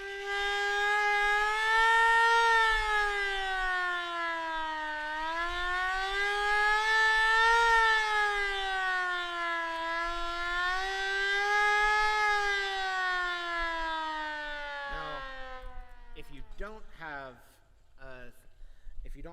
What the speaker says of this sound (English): It is a crank siren.